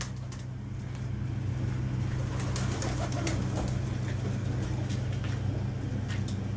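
Pigeons, including a teddy pigeon, coo softly and steadily at close range over a constant low hum of passing traffic.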